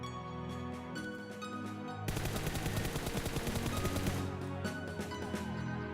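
Rapid automatic gunfire in the PUBG Mobile game, heard as a loud stream of shots that begins at about two seconds and runs for roughly three seconds over a steady game soundtrack, then fades back.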